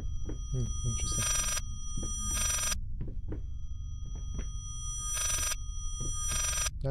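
A telephone ringing in the horror video game Layers of Fear, in repeated bursts of bell-like rings separated by pauses, alongside low thuds and knocks, with a person speaking over it.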